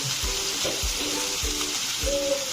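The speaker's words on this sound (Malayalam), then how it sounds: "ബട്ടർ ആഡ് ചെയ്ത് കൊടുക്കുകയാണ്." Butter sizzles and crackles steadily in a hot frying pan, with a few soft rhythmic scraping or stirring strokes beneath the hiss, close and moderately loud.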